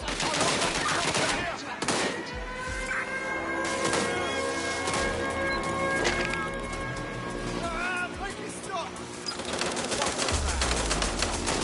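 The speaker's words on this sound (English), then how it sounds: "Gunfire." Gunfire in Watch Dogs: Legion on PS5, with repeated loud shots and bursts scattered across a busy game scene, mixed with game voices and other effects.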